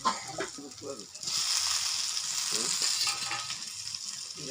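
Fish heads dropped into a mashed tomato masala in hot oil for a Bengali fish-head tel jhal, a sudden steady sizzle rising after a moment of voice, continuing loudly with stirring and further talk over it.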